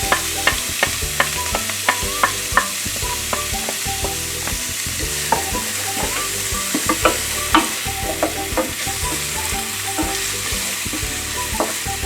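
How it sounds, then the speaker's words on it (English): Chopped onion frying in hot vegetable oil in a saucepan, a steady close sizzle with repeated sharp scrapes and clacks of stirring throughout, no talking. "Add 1 large chopped onion."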